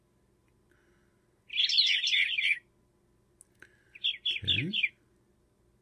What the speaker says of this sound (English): the sound effects for the bluebirds will be coming up here